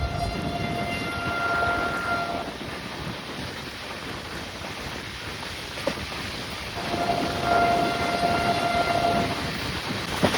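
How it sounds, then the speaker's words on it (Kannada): Interior of a fast passenger train running near 98 km/h on a route from Hubballi toward Srisailam, a continuous rumbling roar with wheel noise and a faint sustained whine, occasional soft clunks, steady and close throughout. "ನಮ್ಮ ಟ್ರೈನು 97, 98ಕ್ಕೆಲ್ಲ ರೀಚ್ ಆಗಿದೆ ಸ್ಪೀಡು."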